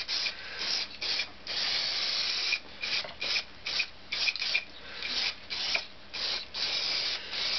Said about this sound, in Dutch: Van twee kanten graag afspuiten.